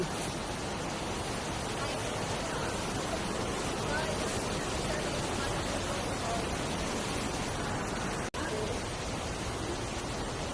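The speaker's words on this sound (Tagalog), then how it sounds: "Naririnig niyo yung agos ng tubig." Flowing water rushes continuously at Panicuason Hot Spring Resort in Naga City, Camarines Sur, a soft, even hiss with no break except one brief dropout near the end.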